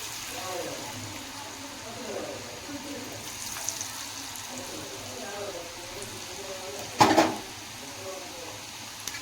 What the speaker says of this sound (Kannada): ಈಗ ನಾನು ಎಣ್ಣೆಯಲ್ಲಿ ಕರಿತಾ ಇದ್ದೀನಿ.